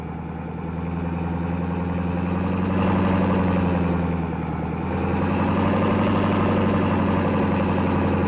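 A farm machine's engine in Farming Simulator 22, its muffler holed, idles with a steady, loud, rough low rumble that rises slightly partway through, running alone without voices.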